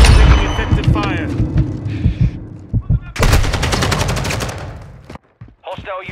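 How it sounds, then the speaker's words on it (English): Gunfire in the 2022 Call of Duty Modern Warfare 2 multiplayer video game: loud, close automatic bursts and rapid single shots, then a dense sustained volley with booming impacts, ending in quieter scattered shots. "Taking effective fire."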